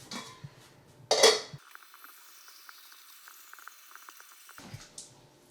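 Water runs steadily into a metal pot for boiling artichokes after a clang of cookware, a continuous pouring hiss lasting several seconds before stopping.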